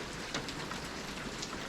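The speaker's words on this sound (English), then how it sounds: "you can hear the rain falling on the roof" Rain falls on a roof in British Columbia, making a steady close hiss with scattered louder drop taps throughout.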